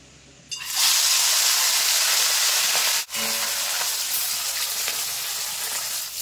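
Small puti fish hit hot oil in a wok with a sudden loud sizzle that stays dense and steady, dipping for a moment midway before crackling on.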